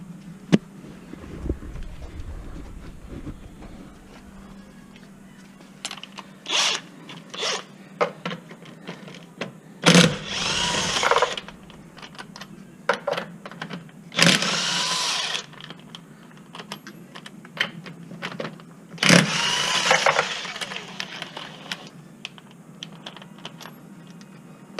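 Removing a wheel from a car during a strut replacement, with several loud bursts from a power tool, likely an impact wrench, spinning off lug nuts, separated by quieter clicks and handling noise.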